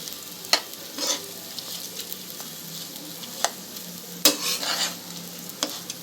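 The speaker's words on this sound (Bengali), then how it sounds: "আরও একটু চাল আর ডালটা ভেজে নেব।" Rice and chana dal frying with spices in a pan over a low-to-medium gas flame for khichuri, a soft continuous sizzle punctuated by several sharp spoon stirs and scrapes against the pan.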